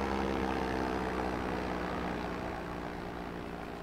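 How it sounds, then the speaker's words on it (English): A steady, droning engine hum of an airplane in the video game Go Vacation, continuous and fairly faint, fading slightly toward the end with no speech. "I hear a plane."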